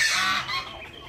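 Chubby hens in an aviary garden in Nazhvan, Isfahan, giving a loud, continuous nasal honking-clucking call that fades slightly toward the end, with no talk.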